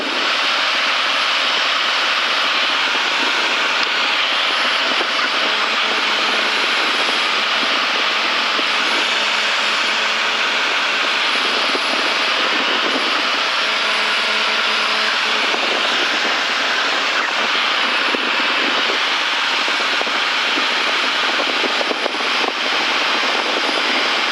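A light aircraft's engine drones steadily from inside the cockpit as the power is eased back from about 145 knots while it flies the circuit toward the runway. The noise is continuous and fairly loud, with no talk.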